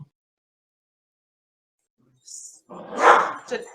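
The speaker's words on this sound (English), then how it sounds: "I have a puppy here. And as soon as I ask my question, you can hear" A puppy barks a few times near the end, with a short yelp followed by louder barks that stand out against an otherwise quiet room.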